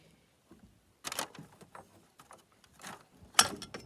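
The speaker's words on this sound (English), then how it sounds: "we'll start with taking the 3 screws out to get the fan cover off" A screwdriver backing out screws from the fan cover of a Poulan 306 chainsaw, producing quiet, scattered clicks and scraping bursts with brief pauses between turns.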